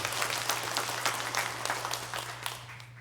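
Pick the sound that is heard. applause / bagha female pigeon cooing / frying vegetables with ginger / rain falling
applause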